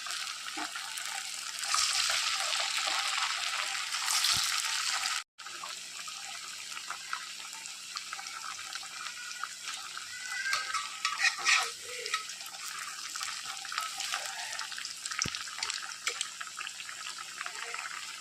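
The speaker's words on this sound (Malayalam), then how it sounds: "ഫ്ലെയിം ഒരു മീഡിയം ഫ്ലെയിമിൽ വെച്ച് വേണം നമ്മൾ ഫ്രൈ ചെയ്തെടുക്കാൻ" Pathiri fry in oil over a medium flame, a steady, close, broadband sizzle and crackle running throughout with one brief dropout early on.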